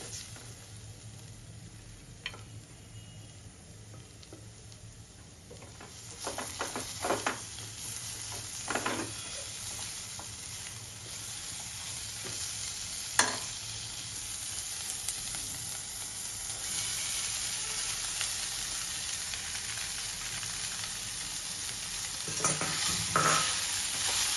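Tomatoes and poha being stir-fried in a pan: a quiet sizzle that grows louder midway, broken by repeated scraping stirs and occasional spatula knocks against the pan.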